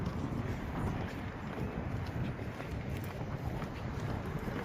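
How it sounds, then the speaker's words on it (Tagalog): Strong evening wind outdoors at about 9:15 PM, as the sun goes down, roars as a steady, dense low rumble that buffets the microphone without a break for the whole stretch. "So malakas ang hangin."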